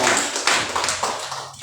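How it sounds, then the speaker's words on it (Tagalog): Congregation clapping for the Lord during a Sunday worship service, a dense continuous patter of many hands with a few louder accents, fairly near and steady, no talk. "Palakpak po sa Panginoon."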